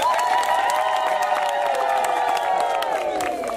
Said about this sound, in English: Clap hands for Sandra